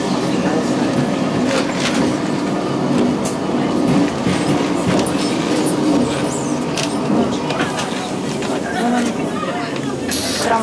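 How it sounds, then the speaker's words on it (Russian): Old Lisbon tram 28, a small vintage streetcar, rattles and clanks along its rails in a continuous rumble with intermittent squeals and knocks, while a voice talks over it throughout. "Навстречу нам проехал такой же маленький вагончик."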